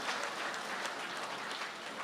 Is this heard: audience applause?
yes